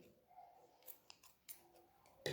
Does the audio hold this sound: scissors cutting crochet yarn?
yes